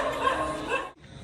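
A dog barks and yips at close range in a short, excited burst, with a brief pause near the end before the sound picks up again.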